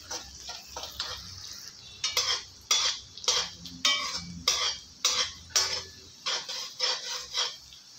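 Garlic sautéing in butter in a pan, with a green chili added, while a utensil stirs it in repeated scraping strokes, a soft sizzle beneath the clatter, close and moderately loud.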